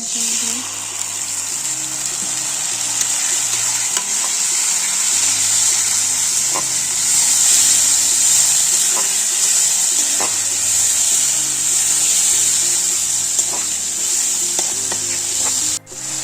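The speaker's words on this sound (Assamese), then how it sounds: "মছলাখিনি মই এতিয়া অলপ ভাজি আছো" Spices fry in a pan, giving a constant bright sizzling hiss with occasional stirring clicks, accompanied by quiet background music throughout.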